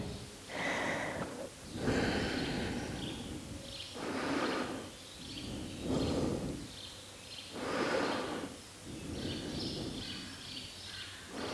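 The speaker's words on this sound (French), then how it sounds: "On respire." Slow, deep breaths during a yoga session, each inhale and exhale drawn out over a second or two in a steady rhythm, close and fairly soft, with no talking.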